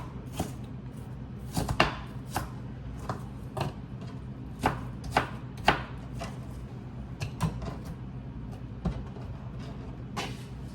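A knife chops onions on a board in a home kitchen, about a dozen sharp irregular thuds spread over the stretch, fairly close and moderately loud against a quiet room hum, with no talk.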